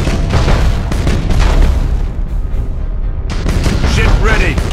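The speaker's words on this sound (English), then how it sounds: "Fire all weapons!" Warship weapons firing in the space battle game Battlefleet Gothic: Armada: loud, heavy booms and rumbling blasts roll in overlapping waves with a brief lull, under dramatic game voices.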